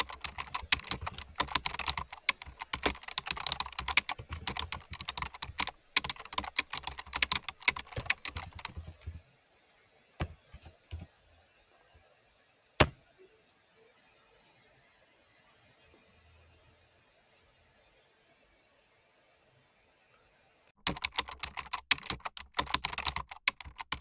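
Typing on a computer keyboard while writing a program for an ESP8266 board: dense, fast key clatter for about nine seconds, then near silence with a single sharp click, before rapid typing resumes at the end.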